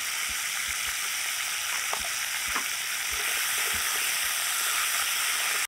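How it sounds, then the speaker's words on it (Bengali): Washed vegetables land in a wok of hot oil over spices that have burnt, giving a loud, steady sizzle and hiss up close, with scattered soft knocks and scrapes of stirring beneath. "এবার এই ধুয়ে নেওয়া সবজিগুলো কড়াইতে দিয়ে দিলাম।"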